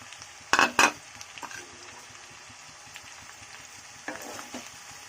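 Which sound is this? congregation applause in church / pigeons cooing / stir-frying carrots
stir-frying carrots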